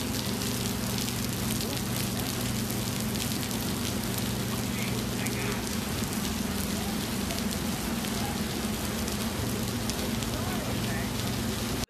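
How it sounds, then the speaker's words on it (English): Heavy rain pours down steadily at the 2019 MotoGP Americas racetrack, a dense continuous hiss and patter for the full stretch, with faint voices and background activity underneath. "all of a sudden the heavens opened up and it was raining cats and dogs"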